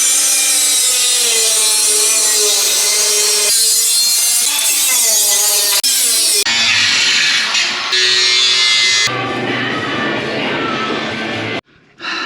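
A cutoff wheel grinds through the steel cross member of a second-generation Toyota 4Runner during an LS engine swap, a loud continuous abrasive whine that shifts in pitch as the cut progresses, with a brief pause near the end.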